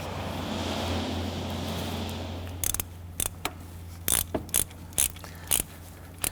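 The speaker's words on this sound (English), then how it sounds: "now we're going to go ahead and put our ratchet on there and go ahead and snug that down" A ratchet snugging down the exhaust variable valve timing solenoid on a 2017-2020 Hyundai Elantra, a run of sharp close metallic clicks in short bursts after a stretch of steady background hum.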